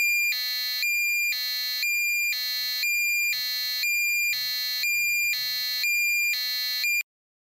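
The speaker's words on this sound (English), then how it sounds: "We pretty much got the same tones in this buzzer also." Buzzer driven by an STM32 microcontroller sounds seven evenly spaced shrill beeps about every half second, loud and alone, then stops abruptly.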